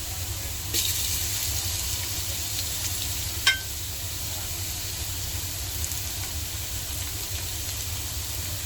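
Garlic and ginger frying in a pan for chicken adobo give a steady, soft sizzle, with a single sharp clink partway through and no talking.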